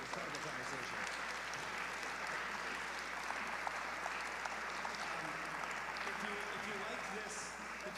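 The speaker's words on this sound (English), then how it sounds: "we'll give them another round of applause" An audience applauds after a panel conversation on Latino democracy, a steady full round of clapping filling the room at even loudness throughout.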